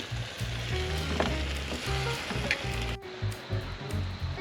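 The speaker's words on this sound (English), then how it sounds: "So the casserole is going along beautifully, just simmering away." A casserole simmering in a pot at a campsite on Moreton Island, giving a steady bubbling sizzle with soft irregular low pops throughout and nobody speaking.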